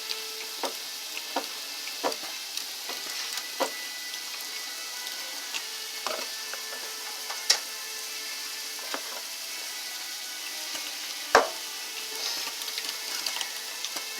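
An old-fashioned hand-cranked meat grinder works raw beef into hamburger, giving a steady, faint mechanical grind under a constant background hiss, broken by sparse clicks and one sharper knock, with no speech.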